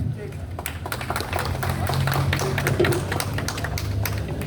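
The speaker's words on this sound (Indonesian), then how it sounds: "Tepuk tangan sekali lagi dong buat Bang Diki Sumarno dong" An audience at a football fan gathering claps steadily, a sustained patter of many hands at moderate loudness, with a voice talking underneath over a low background hum.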